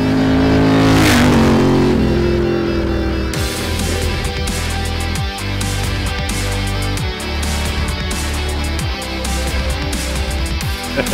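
Custom Ducati 900 SS motorcycle on a road test, its engine loud and close, revving up and climbing through repeated gear changes with rising and falling pitch.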